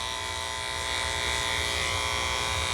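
Electric dog clippers fitted with a 10 blade shave a Shih Tzu's belly, giving a steady close mechanical buzz that grows slightly louder as the blade presses into the coat.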